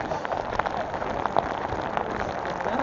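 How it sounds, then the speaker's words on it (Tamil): Heavy rain pattering on a surface in Coorg, with scattered louder drops standing out against a constant wash of noise. "இப்போ திடீர்னு தான் மழை ஜாஸ்தி ஆகிடுச்சு."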